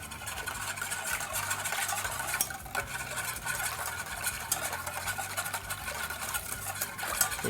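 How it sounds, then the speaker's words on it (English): A whisk stirs a marinade of cooking sherry wine, vinegar and light brown sugar in a bowl for Disneyland-style Bengal BBQ chicken skewers, a steady, quick scraping swish that runs on without pause. "And then I'm going to give this a whisk."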